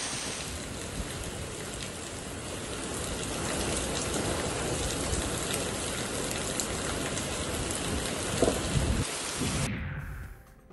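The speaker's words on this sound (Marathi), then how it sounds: "तर कासा, चारोटी भागात देखील मुसळधार पाऊस झालाय।" Heavy pre-monsoon downpour over the Kasa and Charoti area of Maharashtra, a dense, steady roar of rain that holds close and loud for about ten seconds before cutting off abruptly.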